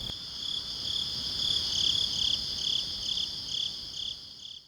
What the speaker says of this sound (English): the sounds of crickets and other beings can be heard amongst the silence of the night